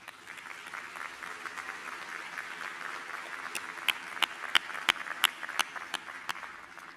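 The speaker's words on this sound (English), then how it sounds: "join me in offering them an appreciative round of applause" An audience at a university convocation ceremony applauds steadily, with a dense wash of clapping that grows stronger, and a few sharp, close claps stand out near the end.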